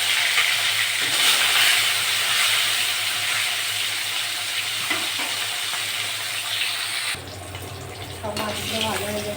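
Fish fry in hot oil in a pan, giving a continuous loud sizzle and hiss close up that shifts in tone near the end.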